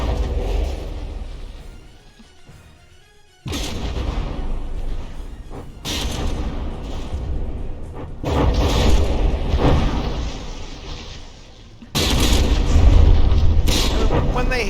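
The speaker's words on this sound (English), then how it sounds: "I saw several of those high explosive shells. Yep, just bouncing off." High explosive shells strike battleships in the naval combat game From the Depths, heavy booming impacts arriving in loud bursts that swell and cut off over a continuous rumble, with someone commentating throughout.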